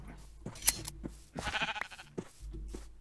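Minecraft sheep bleating in short blocky bursts across a game scene, a few separate calls of moderate loudness with faint game noises between them.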